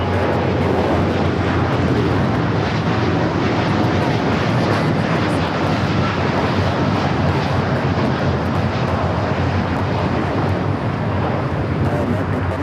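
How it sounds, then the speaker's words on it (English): An American Airlines Dreamliner departs runway 25 right at LAX, a loud, steady broadband jet roar filling the whole stretch with wind buffeting on the microphone, and no clear talk. "American Dreamliner rotating off 25 right."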